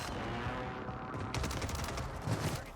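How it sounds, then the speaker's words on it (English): Rapid hip-fire gunfire from a Warzone match crackles in a dense, continuous burst, with shots growing sharper partway through and no talk over it. "I'm just going to keep hip firing here"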